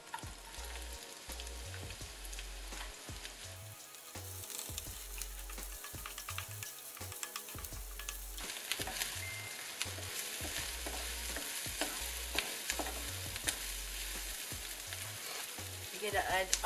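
Onion sizzles and fries steadily in a hot pan for pancit canton, a continuous crackling hiss with repeated scraping and stirring thumps from a utensil.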